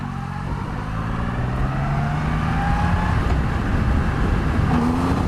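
Strong engine roar from a 2020 Triumph Rocket 3 GT motorcycle accelerating hard in low gears, pitch climbing steadily then dropping at a shift before rising again, loud and close under buffeting wind, with nobody talking.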